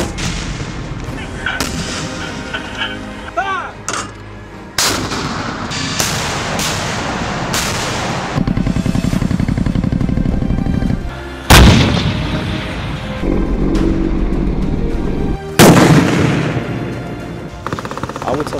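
Military guns firing after a fire command, a series of loud, booming artillery and rapid gunfire bursts that come in separate blasts over roughly eighteen seconds, with some voices mixed in.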